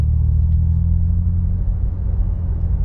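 Steady, close low-pitched drone of a heavy front-wheel-drive car engine while driving, a continuous rumble with no talking.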